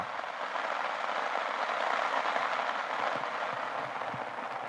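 Steady, soft hiss of rainfall, an even wash of drops with faint scattered patters and no voices.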